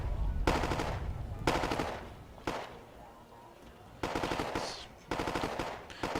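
Machine gun fire in the war strategy game Wargame: AirLand Battle comes in sharp, loud bursts of rapid automatic shots, about five separate volleys with short gaps between them, close and dominant.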